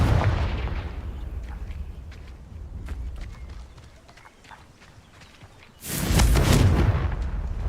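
Confringo fire spell blasts in the Hogwarts Legacy game: a loud booming burst opens and slowly decays, faint clicks and thuds follow, then a second heavy blast erupts near the end and rumbles on.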